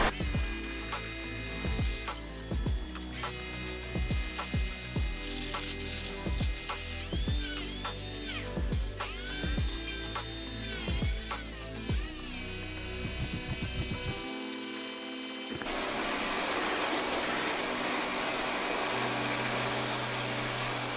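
A pressure washer cleaning a muddy Jeep Wrangler Rubicon at an off-road charity crawl event, running loud and steady with a constant motor drone, rhythmic pulsing surges, and a harsher hiss toward the end.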